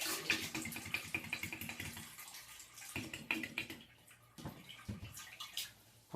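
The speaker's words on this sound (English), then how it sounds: "And that is some steady water flow." Steady water gushes from a kinked hose during an aquarium water change, a continuous close splashing rush with a short lull midway before the flow resumes.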